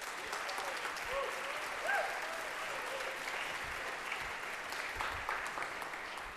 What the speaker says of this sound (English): let's give them a hand. Can we give them a hand?